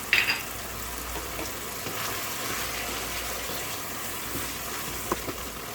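Chicken fries in a pan with roasted, ground masala, giving a steady, close hiss and crackle of sizzling that runs unbroken, with a few small pops near the end.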